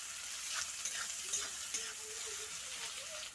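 Onion, garlic and green chilli fry in hot oil for a Bengali dried lotte fish chutney, a continuous close hiss of sizzling with faint stirring ticks and small crackles.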